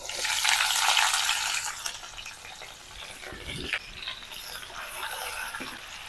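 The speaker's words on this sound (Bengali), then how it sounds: "পেঁয়াজটাকে একদম লাল করে ভেজে নেব" Chopped onion and garlic fry in hot oil with five-spice and chilli in a pan for masoor dal, a bright close sizzle that is loudest at first, then settles into softer crackling with a few stirring scrapes.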